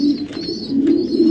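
Racing pigeon, a club-raced bird, cooing close by in a low, steady throaty purr that swells and dips over a little more than a second, with no voices.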